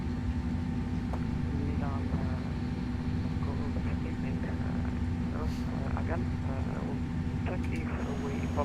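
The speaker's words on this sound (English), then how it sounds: "we got a good start on engine number 2" Pratt & Whitney engine spooling up on an iniBuilds A300 in Microsoft Flight Simulator, a steady loud drone with a constant hum throughout, while people talk over it.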